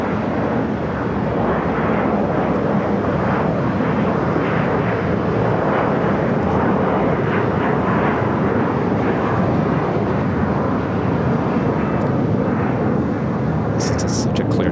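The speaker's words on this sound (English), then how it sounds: "Let's stay with the Emirates A380 Super. Looks like it's number 2 for arrival on the north side, 24 right." Emirates Airbus A380 approaching LAX on a clear day, its steady broadband jet roar loud and continuous throughout with heavy wind rumble, no clear talk over it.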